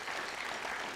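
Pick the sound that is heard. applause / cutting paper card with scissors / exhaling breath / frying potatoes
applause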